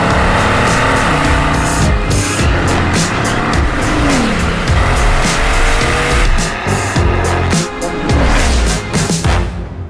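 The Bugatti Vision Gran Turismo race car roars close and loud with a high-revving engine, shifting pitch through gear changes, with tire squeal and skidding throughout.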